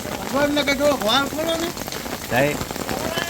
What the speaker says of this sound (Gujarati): જો આ વરસાદ ચાલુ થયો